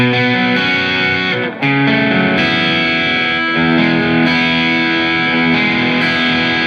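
A distorted electric guitar picks through a chord pattern at a slow, even pace, notes ringing into each other with a slight effects shimmer.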